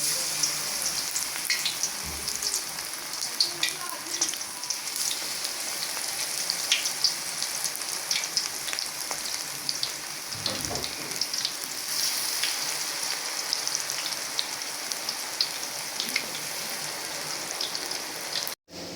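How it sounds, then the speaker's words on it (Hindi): Potato pakoras frying in hot oil in a home kitchen, a steady dense crackling sizzle with scattered pops that holds at an even level throughout, with no voices. "अब मैं डालती हूँ इसके अंदर पकौड़े"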